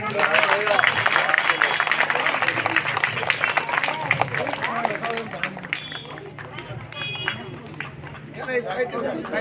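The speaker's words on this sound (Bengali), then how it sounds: "সবাই মিলে একটু জোরে হাততালি দেবেন" Audience clapping at a temple inauguration in Sonarpur, South 24 Parganas, a steady dense applause from a sizeable crowd throughout, with murmured crowd noise and some speech mixed in.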